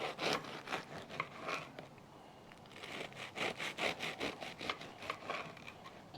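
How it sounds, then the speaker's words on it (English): Rough, rhythmic rasping of a serrated bread knife sawing through crusty ciabatta, repeated strokes close up with a crackly, crunchy texture. "You can hear that the ciabatta is nice and crusty on the outside."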